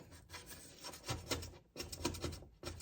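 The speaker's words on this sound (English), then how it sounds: "if you have a really bad spot, you can take your scraper and just hold it flat" A scraper held flat rasps a stubborn spot off a surface being cleaned after cooking, with several short, faint scraping strokes separated by brief pauses.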